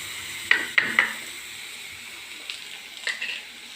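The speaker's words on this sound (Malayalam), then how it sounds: "ഇതൊന്ന് എണ്ണയിൽ കിടന്നൊന്ന് വാടട്ടെ" Papaya pieces cooking in hot oil for a pickle give a soft, low sizzle, broken by a few light clinks and stirring clatters of a utensil against the pan near the start and again toward the end.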